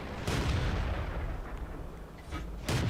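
A World of Tanks battle: a heavy tank cannon blast and ammo rack explosion boom loudly, followed by a sustained rumble and then another sharp blast near the end, with no talking.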